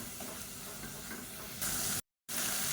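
Onion paste sautéing in oil over a medium flame gives a steady low sizzle that turns into a brighter, louder hiss, briefly cut off before resuming.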